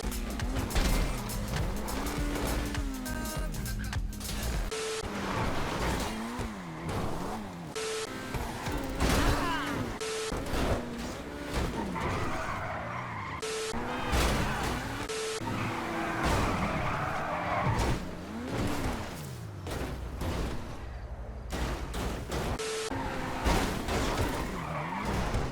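Cars in a Grand Theft Auto race screech and skid repeatedly, tires squealing over a continuous engine roar with frequent revving bursts and impacts, loud and close throughout.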